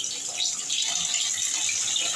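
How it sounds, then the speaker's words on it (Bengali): Potato pieces fry in hot oil for a lote fish dish, giving off a steady, bright sizzling hiss that continues unbroken for a couple of seconds, with no talk. "প্রথমে তেলটা গরম করে নিলাম, তারপরে আলুটা ভেজে নেব।"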